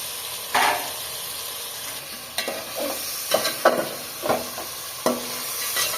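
Meat frying in a pan for a Bangla village-style curry, a soft steady sizzle broken by several brief stirring scrapes and bursts, close but fairly quiet.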